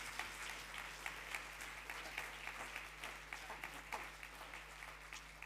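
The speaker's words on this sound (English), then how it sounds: "A big round of applause for Norman Foster." An audience applauds Lord Norman Foster at a talk event, a steady patter of scattered claps sounding fairly faint and distant throughout, with no voices over it.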